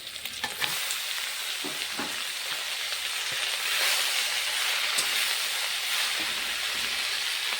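Lafa greens tossed into hot oil with lightly fried onion and chili give a steady, loud sizzle that swells and stays broad, with scraping stirs and small clatters throughout, no voices.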